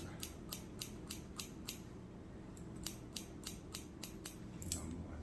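Salon scissors snip hair during a one-length curved haircut, with about a dozen crisp, close cuts in two quick runs separated by a short pause, all against a quiet room hum.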